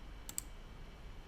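Two quick mouse clicks near the start, faint and close, over a quiet low hum while working in Adobe drawing software.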